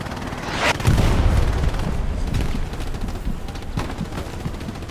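Heavy gunfire and booming blasts ring out in the Hell Let Loose battlefield, with a tank firing nearby: a loud thump near the start, then scattered sharp reports and distant rumbling over continuous battle noise.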